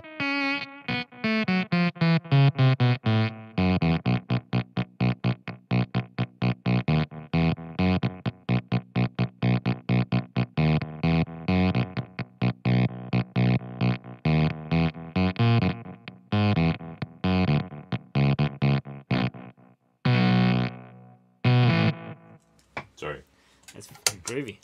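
Electric guitar through a Valco KGB Fuzz pedal, synthy gated fuzz with notes chopped off abruptly, played in rapid repeated bursts and stabs with hard stops and gaps between them, loud and alone.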